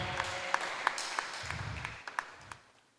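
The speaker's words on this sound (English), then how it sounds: "Let's give her a round of applause." An audience at a table tennis championship event gives a short, modest round of clapping from a smallish crowd, with a few distinct claps standing out before it fades.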